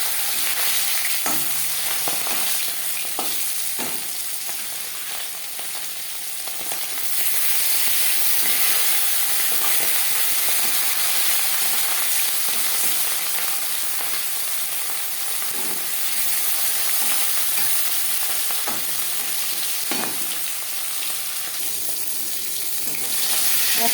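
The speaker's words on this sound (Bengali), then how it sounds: "চার চামচ রিফাইন্ড অয়েল গরম করে নিয়েছি দিয়ে দেবো ম্যারিনেট করে রাখা মাছ" Marinated fish fries in hot refined oil with a loud, constant crackling hiss, occasional clinks and scrapes breaking through the steady sizzle.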